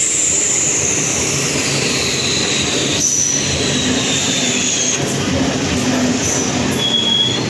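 A train rolls into a railway station with a steady heavy rumble. Wheels squeal high and shrill at intervals over the continuous noise, and there is no talk.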